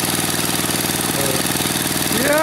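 Swapped-in 10 hp engine running steadily on an Ariens machine, a close, continuous mechanical drone with a throbbing idle rhythm throughout.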